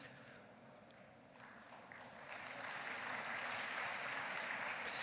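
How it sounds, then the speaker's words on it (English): Applause from a lecture audience, starting as faint scattered clapping and swelling into fuller, sustained clapping that grows louder toward the end. "And you deserve the applause"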